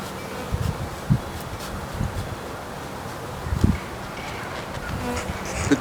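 A soft, steady buzz of honeybees around a hive hums throughout, with faint rustling and a few light knocks.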